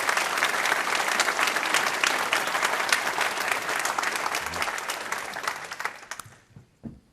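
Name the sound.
audience applause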